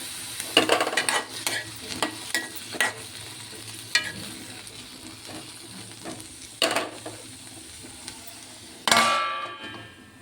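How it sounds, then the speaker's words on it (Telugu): Broad beans cooking in a covered pan, with steady soft frying under a run of sharp clinks and stirring knocks, then a louder burst of sizzling near the end. "ఇవి మూత పెట్టుకొని అలాగే ఒక 10 నిమిషాలు వేయించుకో."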